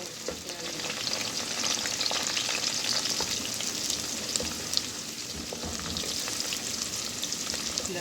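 Continuous crackling sizzle of onions and curry leaves frying in hot oil, close and steady, with small pops and stirring scrapes throughout.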